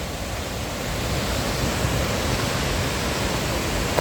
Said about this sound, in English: here's the top of that huge waterfall that you go under